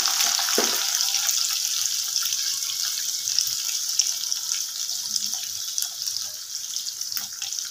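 Egg and chicken fry together in a pan for fried rice, a bright, steady hiss with faint crackles that slowly softens, with no voices.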